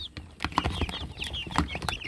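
Farm chicks and chickens pecking at food and clucking in quick, scattered bursts, close by, with soft scratching and rustling between calls.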